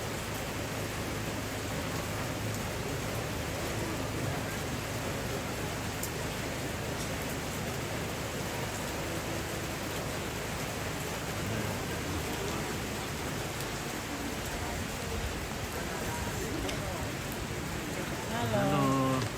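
Steady, even hiss of rain falling continuously, with a brief louder rustle near the end.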